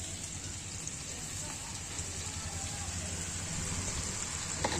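Ground spice paste of ginger, cumin, garlic, chili and turmeric goes into a hot cooking pot on a rooftop, setting off a steady, close crackling sizzle that holds without a break.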